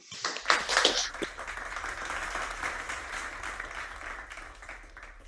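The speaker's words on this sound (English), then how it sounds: "big applause to you" An audience at a presentation breaks into applause, with a few sharp individual claps at the start that merge into sustained, even clapping that slowly fades.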